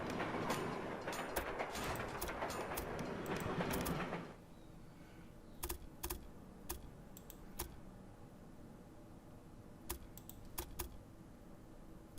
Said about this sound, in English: And good timing to give us a freight train.